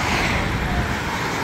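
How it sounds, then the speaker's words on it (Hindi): Busy street traffic in Frankfurt, a dense continuous roar of passing cars and road noise, loud and steady with no pauses. "ट्रैफिक ही ट्रैफिक है।"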